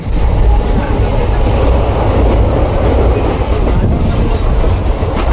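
Steady, loud rumble and rattle inside a moving train bound for Nepal, with continuous clickety-clack of wheels over rail joints throughout and no clear pauses.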